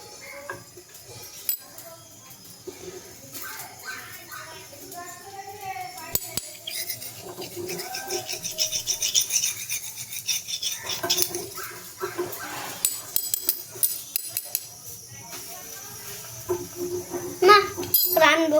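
Food is stirred in a pot while cooking, with intermittent metallic clinks and scrapes of a utensil against the pan under someone talking.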